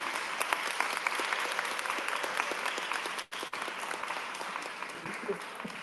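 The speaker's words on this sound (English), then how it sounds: "can I get a round of applause for this great panel?" Audience at a coastal reflections event gives a panel a round of applause, sustained clapping of many hands at a moderate distance, with a short dip midway and faint voices underneath.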